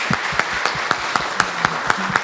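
Scattered, distinct claps ring out at a nursing protocol launch event in Hortolândia, a few hands clapping at a steady pace, fairly close and sparse rather than a full crowd.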